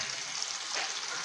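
Fish frying in oil in a frying pan gives a steady, close sizzling hiss with no break for the whole short stretch and no voices.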